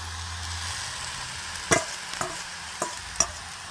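A ladle handle stirs vegetable noodles in a pan, with a soft sizzle underneath and four or five sharp scraping knocks against the pan spaced about half a second apart, fairly close and without talk.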